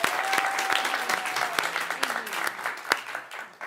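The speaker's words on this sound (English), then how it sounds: "Wow, applause." Audience applause for a musician being welcomed onstage at a congregation's gathering, a dense steady wash of many hands clapping, fairly close and full, with a faint sustained tone running under the first part.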